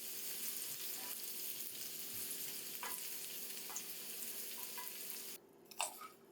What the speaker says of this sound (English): we're going to add our minced garlic and give this a quick saute to release the aromatics